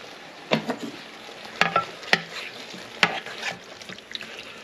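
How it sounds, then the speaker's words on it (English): Veggie korma stirred in a pan, with a run of sharp spoon knocks and scrapes against the metal over a low sizzle, heard up close with no talking. "Now let's just stir it up."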